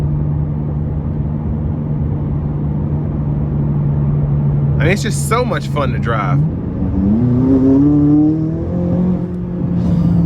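A 2017 McLaren 570S with a 664 hp turbocharged engine accelerates from inside the cabin, a steady engine drone rising in pitch as it pulls, with a driver talking over it.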